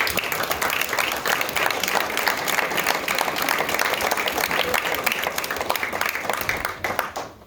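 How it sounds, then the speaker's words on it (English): A school signing-day audience at Franklin Pierce High School applauds in a long, dense round of clapping that holds steady and then tapers off near the end. "let's give one final round of applause for all of our"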